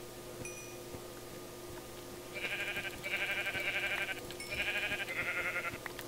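Minecraft sheep give two drawn-out, wavering bleats in quick succession, clear and moderately loud over a soft game background hum.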